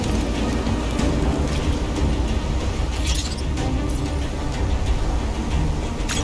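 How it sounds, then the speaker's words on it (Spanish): Heavy storm rain in the video game Call of Duty: Black Ops III beats down loud and constant, with rumbling thunder rolling underneath and brief brighter splashes of rain partway through, and no one speaks. "La tormenta empeora."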